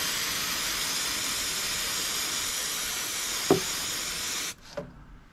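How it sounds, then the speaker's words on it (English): Compressed air from a shop air compressor blasts steadily over brake parts of a 2004 gas EZGO TXT golf cart, a loud continuous hiss with a short clank partway through, then it cuts off. "I'm actually gonna hit it with the air compressor."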